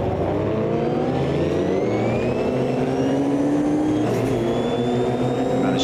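A race car engine in the Automobilista 2 racing game drops through the gears under braking, a loud continuous whine whose pitch slides and then jumps as it downshifts, alone with no voices.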